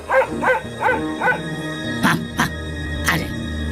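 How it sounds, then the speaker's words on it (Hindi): A cartoon dog barks in a Hindi animated moral story about a wolf and a deer, a run of four evenly spaced barks followed by a few louder, sharper ones, close and clear. "कुत्ता भौंक भौंक कर दोनों की लड़ाई बंद कराने की कोशिश करता है।"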